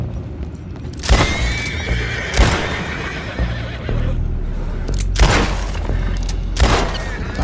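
Horses in the video game Red Dead Redemption 2 whinny loudly several times, the sharp neighs spaced a second or two apart over hoof clops and dull thumps, with no talking.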